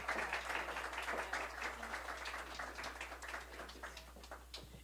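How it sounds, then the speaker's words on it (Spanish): An audience of older adults at a Tuesday chronicle reading event gives a brief round of faint, scattered hand clapping that tapers off over a few seconds, with a steady low hum underneath. "Vamos a darle un fuerte aplauso,"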